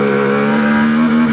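A CFMOTO Ibex 450 motorcycle engine runs at a steady, loud drone with a strong constant hum, heard up close and held evenly for a moment with no speech.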